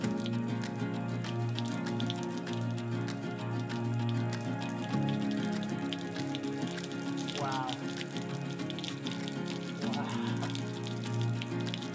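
Water running from a shower on a van deck, a steady patter and splash of droplets on a surface, fairly close and continuous, with a voice briefly speaking over it.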